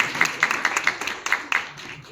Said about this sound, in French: On peut l'applaudir d'ailleurs aussi, pour avoir fait la résistance.